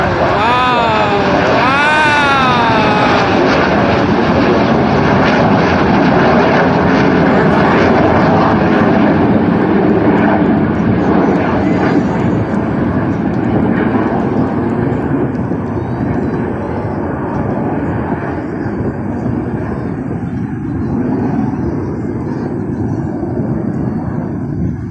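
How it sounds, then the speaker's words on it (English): Jet aircraft roar past at the Dubai Airshow 2021, a loud sustained engine rumble with a sweeping tone early on that slowly fades, while a voice talks over it. "coming out of the 6 aircraft representing the United Arab Emirates and the aircraft crossing underneath"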